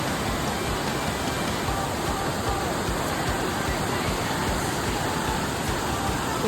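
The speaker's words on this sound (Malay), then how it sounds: "Nampaknya tapak air semua terderas." Rushing water at a campsite in Kuala Kangsar, Perak, roars as one steady, loud, broadband wash that stays even throughout, with no break or voice over it.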